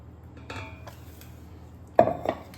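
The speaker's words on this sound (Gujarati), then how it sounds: "હવે આપણે એને વાસણમાં" Metallic clinks and scrapes of a utensil against a metal pot as ground dhokla batter is transferred into it, a few soft knocks followed by two sharper clangs, close by in a quiet room.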